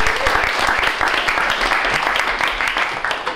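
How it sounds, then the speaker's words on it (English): Dense applause from a lecture audience welcoming a teaching fellow at a systems medicine class, a steady wash of many hands clapping at close range throughout, without pause. "let's give him a round of applause"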